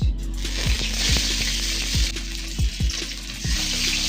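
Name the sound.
fish frying in hot oil in a pan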